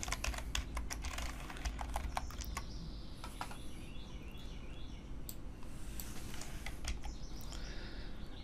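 Close, quick keystrokes on a computer keyboard tap in irregular bursts, with a few mouse clicks mixed in.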